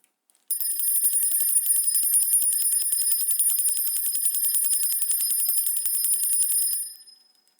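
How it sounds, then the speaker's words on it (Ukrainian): A small bell rings in a rapid continuous trill, bright and high, sustained for several seconds before fading out. "А ось так звучить музичний інструмент дзвіночок."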